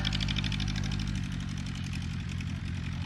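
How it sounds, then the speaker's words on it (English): E-2 Cub light aircraft with a 40 horsepower engine running steadily, a close, loud, rhythmic low chugging drone with popping pulses throughout, no talk. "the E2 Cub getting a head start. Pop, pop, skip, skip, 40 horsepower"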